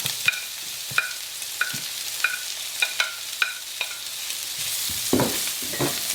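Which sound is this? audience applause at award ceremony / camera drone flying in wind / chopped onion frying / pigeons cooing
chopped onion frying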